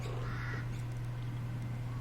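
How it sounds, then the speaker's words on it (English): Harsh crow-like caws ring out in the strategy game Total War: Warhammer 2 during a Dark Elf campaign, a couple of rasping calls over a steady low hum. "And that bird should shut the fuck up."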